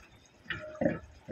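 Rui fish curry with potato and cauliflower simmers in a pot, giving a few soft, close bubbling pops and blips spaced out over quiet background.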